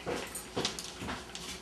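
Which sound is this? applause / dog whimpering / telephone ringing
dog whimpering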